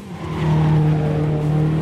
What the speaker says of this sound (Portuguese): perdi o ponto de freada e o carro foi lá na área de escape.